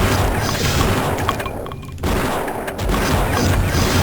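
A boss in Blood fires volleys of shots, a loud, dense barrage of booming gunfire that drops out briefly, then returns in further heavy bursts.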